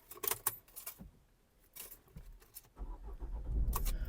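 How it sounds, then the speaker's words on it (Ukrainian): Keys jangle, then an Opel Zafira engine cranks and catches, settling into a steady idle close by. "двигун запускається чудово"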